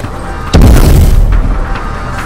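Flashbang grenade detonating in Call of Duty: Advanced Warfare, a single loud, sharp boom with a heavy low-end thump that decays over a couple of seconds, alone without speech.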